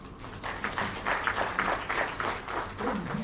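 An audience at a youth ministry event in Sierra Leone applauds the minister, a dense patter of many hands clapping steadily from start to finish at moderate volume.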